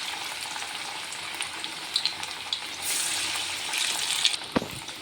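Chana dal vada sizzling in hot oil over a low flame, a steady close frying hiss with small pops and crackles, no voices.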